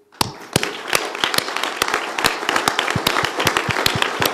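Applause for political candidates at a Greek European election campaign event: sharp individual claps starting sparse, then building into a steady, fairly close patter from a modest crowd.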